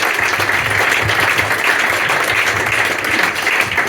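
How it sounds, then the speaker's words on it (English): An audience applauds at a live evening event with Ocean Software at ZZAP! Live, steady dense clapping filling the room for the whole stretch, loud and close. "Round of applause,"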